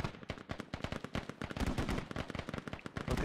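Rapid bursts of gunfire from the military shooter game Squad, dense and continuous across the whole stretch, with sharp overlapping reports and no talk.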